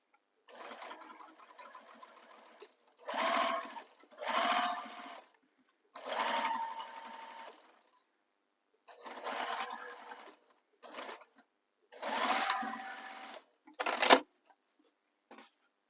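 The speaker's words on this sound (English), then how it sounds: "So if you haven't already, return that stitch length back to your length you use for stitching bags together. And you can back stitch here." A sewing machine back-stitches a fabric bag in short bursts, about eight rapid mechanical runs separated by brief pauses, close and clear.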